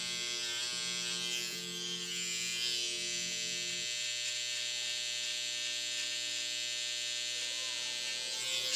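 Electric hair clippers buzz steadily at close range while cutting hair around the neckline at the back of the head, giving a continuous droning hum that shifts slightly in tone as they move, with no talking.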